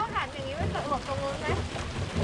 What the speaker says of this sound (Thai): ฝนตกพอดีเลย